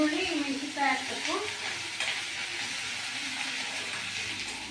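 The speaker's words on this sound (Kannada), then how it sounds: "ಸ್ವಲ್ಪ ಫ್ರೈ ಮಾಡಿಕೊಂಡು ಆಮೇಲೆ ಈರುಳ್ಳಿ ಮೆಣಸಿನಕಾಯಿ ಹಾಕಬೇಕು." Sizzling frying in a pan before onion and chilli go in, a steady hiss throughout with a brief stirring scrape near the start, with a voice faintly underneath.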